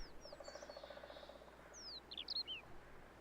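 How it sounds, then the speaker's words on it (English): In the video game The Long Dark, several short bird chirps and tweets ring out at dawn over a steady low hum, with a quick cluster of brighter calls near the end. "you can hear the birds because the sun's about to come up."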